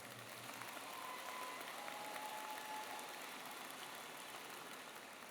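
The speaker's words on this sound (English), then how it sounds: "Give them another round of applause." Graduation audience at a Riley High School ceremony applauding, a steady dense patter of many hands clapping at a distance, faint and sustained throughout with no speech.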